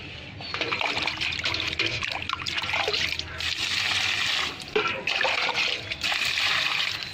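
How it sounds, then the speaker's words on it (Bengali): Water is poured onto a dry guava plant in a garden, a steady trickling and splashing stream that runs close and fairly loud for several seconds with brief pauses. "গাছে একটু পানি দিয়ে দেই।"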